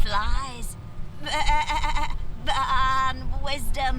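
A sheep in the fantasy role-playing game Divinity: Original Sin 2 bleats in three or four quavering calls with short pauses between them, close and clear over a low ambient hum.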